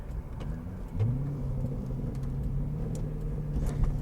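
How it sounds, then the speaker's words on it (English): A 2008 Corvette convertible, six-speed manual with Borla exhaust, idles low then blips its engine with a rising rev about a second in, settling into a steady throaty drone, heard alone at moderate distance. "this car has a Borla exhaust. It's not outrageous, but it does give it some tone."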